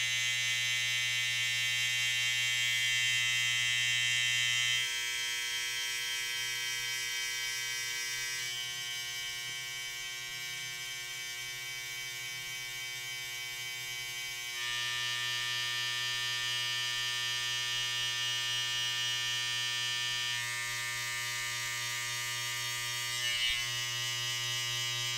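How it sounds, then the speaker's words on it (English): An electric hair trimmer cutting hair during a self-haircut with #0.5 and #1.5 guards: a steady close buzzing drone that shifts slightly in tone as it runs, continuous throughout. "I'm going to try and reduce it as much as possible by using the corners of the trimmer"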